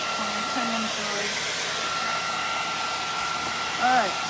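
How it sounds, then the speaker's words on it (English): A very hot hair dryer blows steadily over stenciled paint on a wood panel in an art studio, a continuous close whooshing drone with a brief surge near the end. "Real hot dryer."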